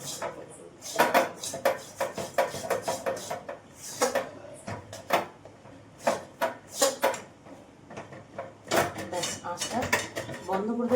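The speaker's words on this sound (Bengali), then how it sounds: "এই গরম কড়াইয়ের মধ্যেই নাড়তে থাকবো এটাকে।" Gram flour batter is stirred and scraped in a hot kadai off the heat, giving repeated close metallic scrapes and knocks of a utensil against the pan in an uneven rhythm.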